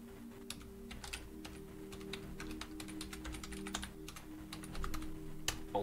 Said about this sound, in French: mais là je tape un mot de passe